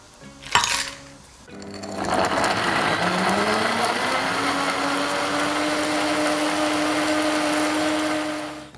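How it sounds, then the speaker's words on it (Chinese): A high-speed blender whirs steadily while blending mango with water and ice. It starts with a brief clatter, then spins up and holds a loud, continuous motor drone for several seconds before winding down at the end. "一部分芒果呢用破壁机打绒"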